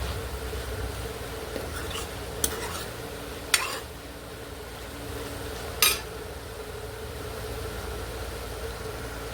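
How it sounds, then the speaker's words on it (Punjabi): Capsicum sabzi is stirred in a pan, with a few sharp clinks of a spoon against metal breaking through a low, steady background hum, close and otherwise quiet. "ਦੇਖੋ ਇਹਨੂੰ ਚੰਗੀ ਤਰ੍ਹਾਂ ਮਿਕਸ ਕਰ ਦਾਂਗੇ"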